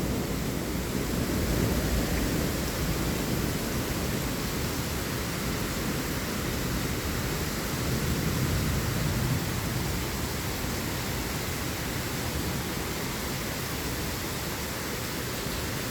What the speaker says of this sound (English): The rain's coming over here.